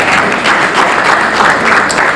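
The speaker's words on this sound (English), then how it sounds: "good clap for you" Brief burst of dense audience clapping at a tech forum in Washington DC, loud and even throughout.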